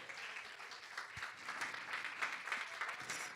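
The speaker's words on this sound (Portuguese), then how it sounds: "Você pode aplaudir a Jesus aí?" A church congregation claps together in a steady, fairly faint round of applause that continues throughout, with a low murmur of voices beneath it.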